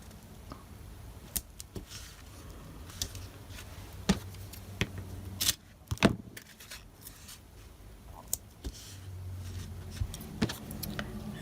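Paper card is trimmed with scissors in a quiet room, producing a series of sharp, scattered snips and clicks close by, with soft rustling handling noise between the cuts.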